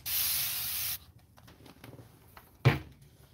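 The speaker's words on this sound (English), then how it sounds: "I'm just using a continuous spray bottle to put some water down" A continuous-mist spray bottle sprays water onto a craft piece in one steady, close hiss lasting about a second, followed by quiet handling noises and a short sharp knock near the end.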